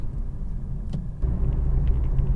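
A car's low engine rumble and road noise, steady and close, growing slightly heavier partway through as it pulls onto a highway.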